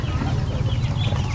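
Young chickens cluck and chatter densely and close by at a rustic highland market in Bao Nhai, Lao Cai. The sound is steady and continuous, with no talking.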